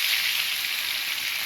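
Meat stir-fries in a hot pan, a dense, steady sizzle and crackle held at an even, fairly loud level throughout with no talking.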